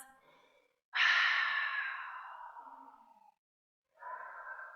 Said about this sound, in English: Take a few big, deep breaths.